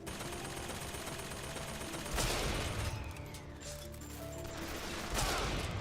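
Enemy gunfire in the video game BioShock Infinite, sustained bursts of shots crackling loud and dense across the whole stretch, with heavier blasts rising near the middle and end.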